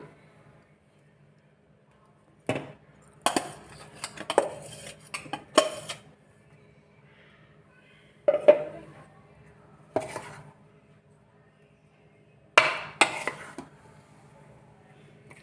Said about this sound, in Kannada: ಈ ಗ್ರೈಂಡ್ ಆಗಿರೋದನ್ನ ನಾನು ಫಸ್ಟೇ ಗ್ರೈಂಡ್ ಮಾಡ್ಕೊಂಡಿರೋ ಪೌಡರ್ಗೆ ಮಿಕ್ಸ್ ಮಾಡ್ತಾಯಿದ್ದೀನಿ